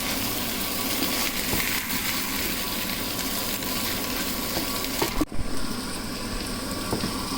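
Onion and garlic fry in hot oil together with dried chapa shutki fish, giving a close, continuous sizzle with faint stirring scrapes and one brief clatter partway through.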